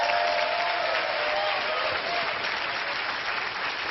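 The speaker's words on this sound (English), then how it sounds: "give them a big round of applause" A seminar audience claps together in a full, steady burst of applause that fills the room and holds at an even level throughout, with no voice over it.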